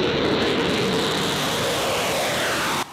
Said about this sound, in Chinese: 英国派出台风战斗机加入